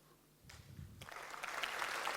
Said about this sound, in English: How do you applaud if you don't understand what I'm saying?